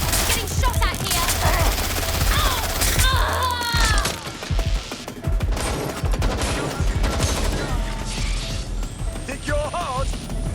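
Gunfire in the video game Watch Dogs: Legion: dense bursts of automatic shots and crackling impacts run almost continuously under in-game voices shouting, loud and close throughout.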